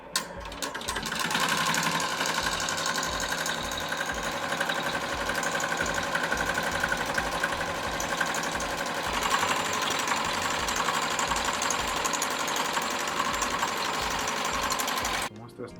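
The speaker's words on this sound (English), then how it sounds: "And once you have all your checks done, you start the machine." A digital embroidery machine runs continuously, its rapid needle stitching making a fast, even mechanical chatter that stays loud and steady throughout before stopping at the end.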